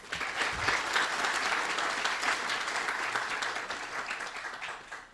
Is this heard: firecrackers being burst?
no